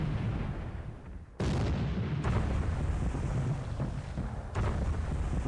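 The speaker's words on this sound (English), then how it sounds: "another explosion on main deck" Heavy blasts from a naval battle in a Spanish Civil War strategy game, with explosions on a ship's main deck: loud, dense rumbling booms, one sharp burst about a third in and another near the end, over constant battle noise.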